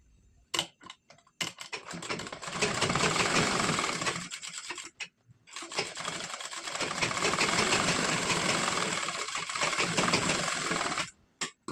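A sewing machine stitching piping onto a blouse runs in two long bursts of fast mechanical whirring, separated by short pauses with small clicks, near and fairly quiet.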